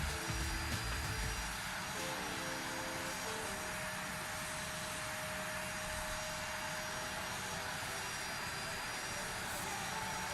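FSLabs A321 airliner engines in a flight simulator game, a steady loud jet whine and rushing hum that holds evenly throughout with no one speaking.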